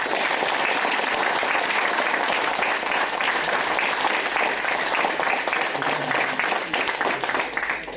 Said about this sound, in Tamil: என்னை போன்ற பேச்சாளனை எல்லாம் தொடர்ந்து இயக்குவது இந்த கைத்தட்டல் தான்.